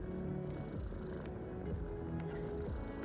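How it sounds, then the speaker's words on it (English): A small cat at a villa in Bali purrs steadily and continuously, a close, soft rumbling with a regular pulse and no talking. "the place seems to come with a little villa kitty"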